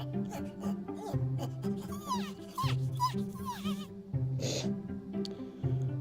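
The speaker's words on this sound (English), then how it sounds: "The noise that thing makes when you pick him up, it sounds like part dog, but like really high pitched" A pet dragon in an augmented reality phone app makes high-pitched yipping, whimpering calls like a small dog when picked up. Several chirpy rising squeals sound over a steady rhythmic electronic backing loop.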